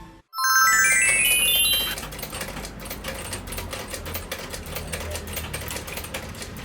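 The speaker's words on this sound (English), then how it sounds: "Máquina de coser." A sewing machine runs steadily and close, its dense mechanical clatter holding for several seconds after a bright chiming jingle at the start.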